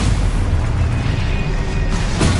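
Loud, sustained magical blast in the Hogwarts Legacy video game, a heavy booming rumble that fills the whole stretch without a break, with a fresh burst near the end.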